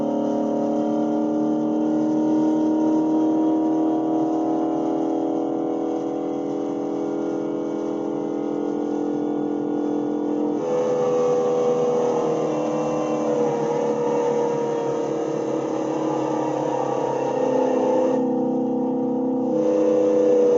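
A 1954 sports car engine drones steadily during normal interstate-speed driving, a loud, sustained tonal hum heard from inside, shifting pitch slightly partway through with no speech.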